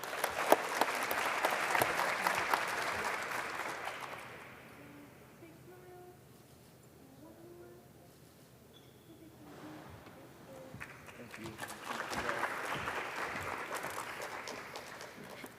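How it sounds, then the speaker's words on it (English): Applause from an awards dinner crowd, a loud sustained wash of clapping that fades to quiet murmuring in the middle and then swells again, with a voice speaking over it. "keep up the applause, don't be tired"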